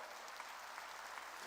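A church congregation applauding during a sermon, a dense, even patter of many hands clapping, fairly faint and distant.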